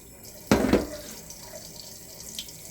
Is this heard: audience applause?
no